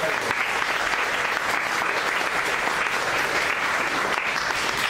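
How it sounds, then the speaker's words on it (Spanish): A church congregation breaks into strong, sustained applause, an even wash of clapping lasting several seconds with no pauses. "Dale una ofrenda fuerte de palmas."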